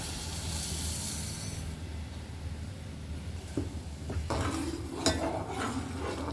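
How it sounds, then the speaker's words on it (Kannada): Upma mixture being stirred in a pot on the stove, a steady background hiss giving way to brief scraping and clinking of a utensil against the pot in the last couple of seconds. "ಈ ಥರ ಮಿಕ್ಸ್ ಮಾಡ್ಕೊಳ್ಳೋಣ"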